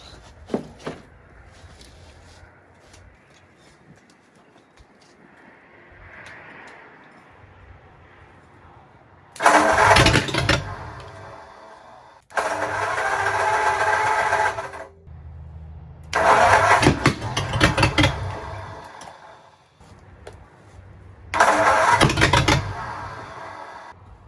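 An old flathead V8 engine bought cheap cranks and catches in repeated loud bursts, each start running roughly for a couple of seconds before cutting out, with quiet pauses and faint clatter between attempts.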